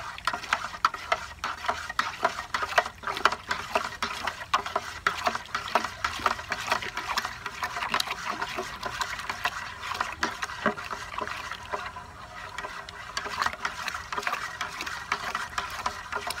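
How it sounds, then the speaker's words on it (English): Wine kit powder is stirred into water, a steady close swishing and sloshing with repeated knocks of the spoon against the container, continuing for the whole stretch. "we're gonna stir it into our water"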